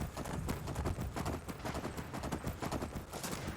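Horse hooves clop in a quick, steady riding rhythm across the Soul Cairn in Skyrim, loud and continuous with a dense, busy game soundscape behind them.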